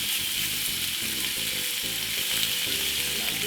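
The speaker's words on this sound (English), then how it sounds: "So now I need to grill the steak." Steak sizzles loudly on a grill, a dense continuous hiss with rhythmic lower pulses of crackling fat, close up and unbroken, with no one speaking.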